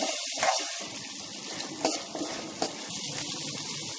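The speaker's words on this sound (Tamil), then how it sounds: "நல்லா வதக்கிக்கங்க." Small shallots and garlic sautéing in a pan for kara kuzhambu, a steady close sizzle with a few louder spatula scrapes and stirs, no voices.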